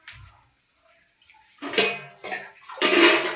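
A glass of water is tipped into a simmering ridge gourd curry in two or three short splashing bursts, close and fairly loud, after a brief quiet stretch.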